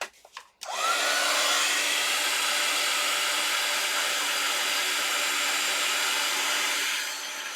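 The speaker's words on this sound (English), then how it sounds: "Go ahead and heat set this." A heat tool blows a steady, loud whirring rush of hot air to set embossing powder on a card, starting after a brief rustle and running unbroken for several seconds before easing slightly at the end.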